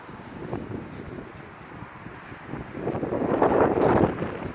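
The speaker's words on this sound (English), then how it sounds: "And it is cold and windy." Cold wind gusts over a garden of dragon fruit plants, buffeting the microphone with low rushing bursts that build to a stronger gust near the end, with no talk.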